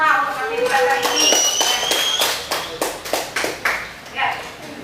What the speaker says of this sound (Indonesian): Tepuk tangan buat kita semua untuk aktivitas hari ini.